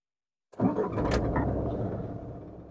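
A high-mileage Tata Indica Vista's engine cranks and fires at about half a second after silence, then settles into a steady, close idle that continues to the end.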